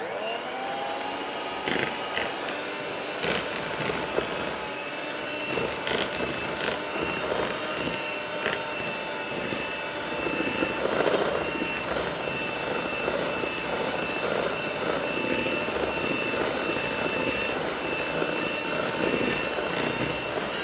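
Electric mixer beating three kinds of butter with powdered sugar for nastar cookie dough, a steady loud whirring drone that runs continuously with slight rises and falls, no voices over it.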